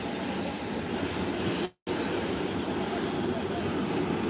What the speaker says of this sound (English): Here is the Southwest Airline coming in.